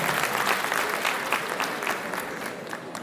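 Steady audience applause at a solidarity night concert, many hands clapping densely and fairly close, holding strong throughout before easing slightly at the end.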